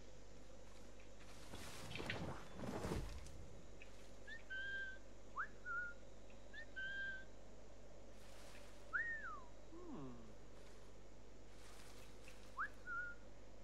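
Human whistling in the video game Assassin's Creed IV Black Flag, several short rising and falling whistled notes spaced through the scene over steady ambient wind and sea noise, with a couple of louder dull thuds early on.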